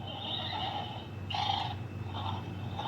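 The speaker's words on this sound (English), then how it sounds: "It does various different sounds. So right now it's kind of like the horses eating, I mean the unicorns eating." An electronic Unicorn Academy Starglow Fountain & Stables toy playset plays a horse-like whinny and eating sound effect, with a few bright, moderately loud bursts repeating over a steady electronic hum.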